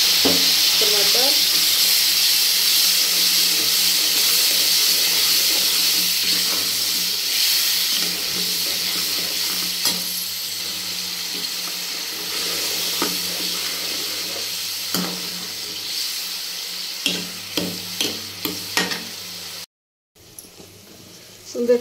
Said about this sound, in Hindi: बिना प्याज का तड़का लग रहा है आज